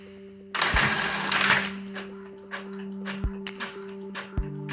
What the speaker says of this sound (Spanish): Y ahí vemos que ya está imprimiendo.